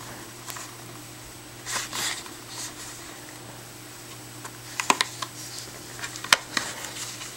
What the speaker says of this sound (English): So trying to open up this casing, gotta take everything apart.